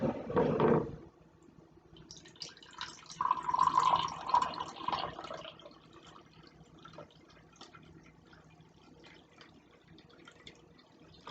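Water pours briefly at the start, then a second stream of about a cup of filtered water trickles and splashes into a container before tapering off to quiet drips.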